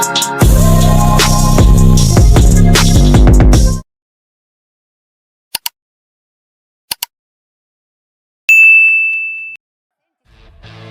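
A notification bell dings clearly in a loud ringing chime, followed by a few faint clicks and a short sustained electronic tone.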